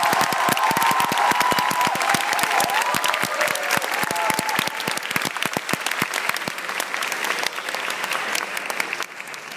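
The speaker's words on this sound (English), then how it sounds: "Ladies and gentlemen, a round of applause for our salutatorian and our valedictorian." An audience at a graduation ceremony bursts into loud, sustained applause with scattered cheers, dense clapping continuing steadily and thinning slightly toward the end.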